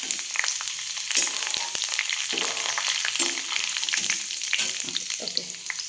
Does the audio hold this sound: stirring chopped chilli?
yes